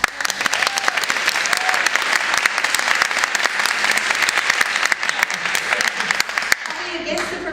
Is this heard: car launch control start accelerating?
no